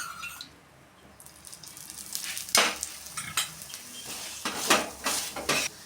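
Aloo chapathi cooks on an oiled dosa griddle, giving a soft, steady sizzle broken by several sharp clinks and scrapes of a utensil against the pan.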